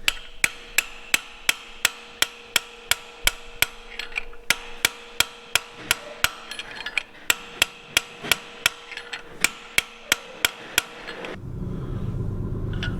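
Rapid metallic hammer strikes on a brass punch while fitting steering brakes to an FV4005 tank, about two blows per second in a steady, loud, close series that stops near the end, leaving a low rumble.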